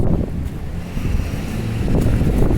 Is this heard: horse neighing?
no